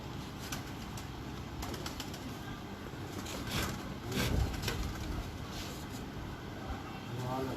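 A female pigeon kept by a pigeon fancier coos softly nearby, with a brief flutter of wings midway, over a constant hum of background noise and faint voices.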